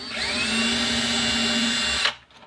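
A power drill bores pilot holes in wood, whining at a steady high pitch for about two seconds before stopping sharply, followed by faint handling sounds, with no talking.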